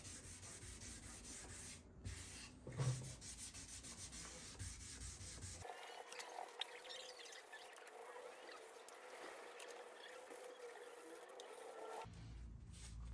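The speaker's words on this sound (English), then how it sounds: "Right, so we're going in with the 1200 grit now. Wet it down and just sand the area that you've already sanded." Wet sanding of a car bumper's lacquer with 1200 grit sandpaper: a steady, close rubbing and scraping that runs the whole time, growing softer and more muffled in the middle stretch, with no talking.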